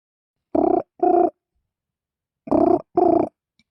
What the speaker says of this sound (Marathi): आता फोनच लावस मी.